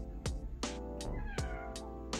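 A house cat meows repeatedly in a home kitchen, about five drawn-out calls in quick succession, close and clear.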